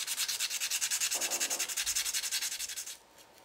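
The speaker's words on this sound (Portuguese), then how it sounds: "Eu lixo aqui o corte para tirar as imperfeições." Rapid back-and-forth sanding strokes across the cut edge of a modeled toy hammer piece, a steady rhythmic rasp of about twenty passes that stops abruptly near the end, close and alone.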